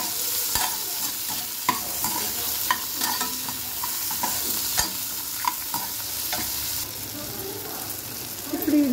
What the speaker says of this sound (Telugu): ఇప్పుడు టమాటో కొంచెం మగ్గనిద్దామండి.